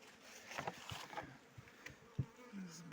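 Small bees fly around a hive during a cleansing flight in a seasonal inspection, a faint buzzing hum with brief wingbeats passing close by against a quiet outdoor background.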